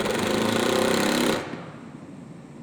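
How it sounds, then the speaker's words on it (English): A power drill whines hard for over a second while pre-drilling screw holes into the side of a wooden gazebo rafter, then cuts off, leaving quiet room tone. "Pre-drill the holes for the screws into the side of the rafters approximately every 16 inches."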